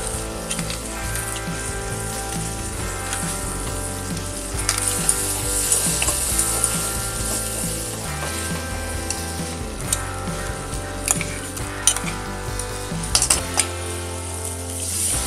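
Ground masala paste frying in a hot tempering for South Indian sambhar, a loud continuous sizzle and crackle with scattered clicks and scrapes of stirring throughout.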